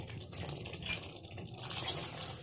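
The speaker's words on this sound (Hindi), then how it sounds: "अब हम इसके अंदर पानी शामिल कर लेंगे, हमें जितना सालन चाहिए।" Water poured into a pan of fried curry masala for a kofta salan, a steady splashing, trickling pour that runs throughout at moderate loudness with no talk over it.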